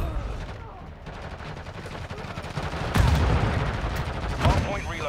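Gunfire from a Warzone Mobile multiplayer Hardpoint match on the Shipment map, rapid overlapping shots and bursts building louder in the second half, mixed with game voice lines and talking.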